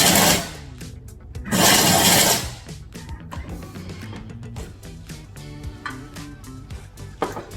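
Thermomix on turbo setting processing grain-free granola gives two short, loud, roaring whirs, close by, followed by quieter clattering and rattling of chunks settling in the bowl.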